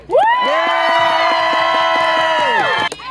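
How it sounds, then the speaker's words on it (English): Crowd at a fantasy theme park event cheers and whoops for dragons after a debate, a loud sustained roar of many voices with a rising, held tonal shout that drops off abruptly near the end. "thinks dragons will give me your loudest applause?"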